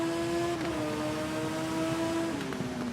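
Racing motorbike in the TT Isle of Man road-racing game pulling away hard on the Mountain Course, a steady high-pitched engine note that shifts pitch with gear changes, loud and close throughout.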